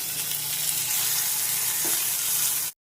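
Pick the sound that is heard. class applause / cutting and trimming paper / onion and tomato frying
onion and tomato frying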